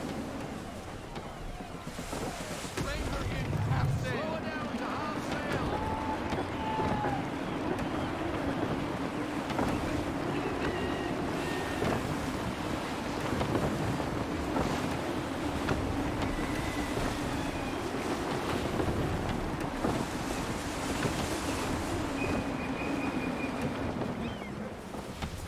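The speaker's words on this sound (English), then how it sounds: "Wind looks to be shifting. Stay alert, Connor. Gusty winds can be difficult to manage." Gusty wind sweeps over the open sea aboard a sailing ship in Assassin's Creed 3, a continuous loud roar mixed with waves and creaking hull sounds, with faint calls and tones rising now and then.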